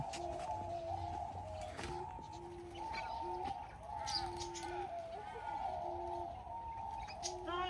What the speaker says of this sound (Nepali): ढुकुरको सानो प्रजाति यार यत्रो ढुकुर त मैले अहिलेसम्म देखाएको थिइनँ